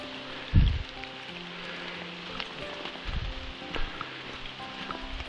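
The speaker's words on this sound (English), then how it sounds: "The skies have opened up, and I am drenched." Heavy rain pours steadily onto a forest trail in Cherokee National Forest, a dense, continuous patter and hiss. A few louder thumps and splashes stand out nearby. No one speaks.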